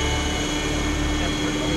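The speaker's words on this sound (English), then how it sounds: "The helicopter is facing us." A Hughes 500MD TOW Defender helicopter flying at night gives off a dense, steady roar of engine and rotor, loud and constant throughout.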